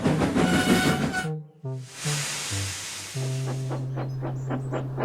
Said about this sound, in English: They both waited till the breakdown train pulled up alongside.